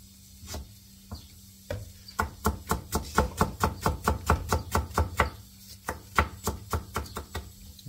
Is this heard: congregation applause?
no